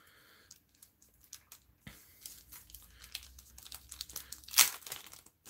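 A Bakugan Battle Planet card pack is torn open, with soft irregular crinkles and rips of the wrapper, sharper toward the middle and peaking in one loud tearing crackle near the end, with no voices.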